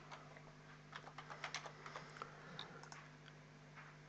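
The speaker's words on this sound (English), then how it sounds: "let's just type it" Rapid bursts of keystrokes on a computer keyboard while entering a name into a Microsoft Access database, close and fairly quiet over a low hum, with the clatter easing off toward the end.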